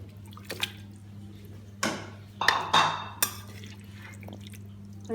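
Marinated chicken pieces dropped into a pan with a little oil, giving several sharp clattering impacts and short bursts of sizzle over a steady low hum, with no voices.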